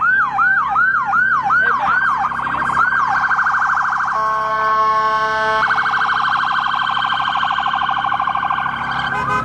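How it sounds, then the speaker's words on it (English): Police sirens pass loudly on a neighborhood street, cycling through rapid yelping wails and a steady rising-falling tone for about ten seconds, with traffic rumble underneath. "Let the sirens go by."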